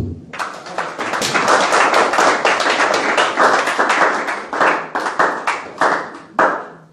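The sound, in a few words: congregation clapping to acclaim Jesus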